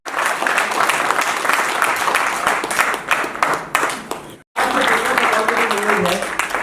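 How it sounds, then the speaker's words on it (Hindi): Loud applause from a seminar audience at a business plan presentation in Hansi, steady clapping that breaks off briefly and then resumes, with a voice speaking over part of it. "एक बार जोरदार ताली हो जाए।"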